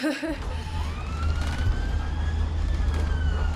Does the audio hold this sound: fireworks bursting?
no